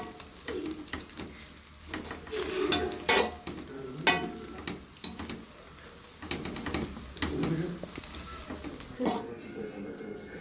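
Vegetables for prawn kottu roti fry on a low flame while being stirred, a soft sizzle under repeated scraping strokes and occasional metallic clinks of utensil on pan, close and intermittent.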